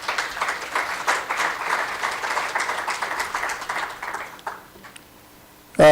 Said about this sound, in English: I think they deserve a hand of applause.